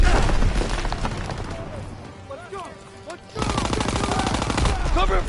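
Call of Duty WWII combat opens with loud, dense rifle and machine-gun fire that drops to a lull with a few scattered shots, then surges back into a heavy barrage while soldiers shout.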